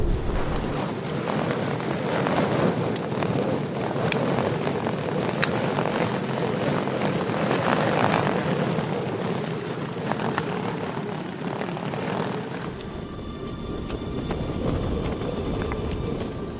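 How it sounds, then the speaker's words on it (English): Blustery wind buffets a tent pitched at about 2,500 feet in the Lake District, a steady loud roar and flapping rumble that holds for about thirteen seconds before easing into a quieter hiss. "As you can hear, blustery, windy, tent in the Lake District."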